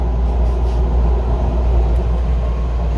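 Steady low rumble of a Miami Metrorail train in motion, heard from on board, with a continuous dense roar and no pauses or speech.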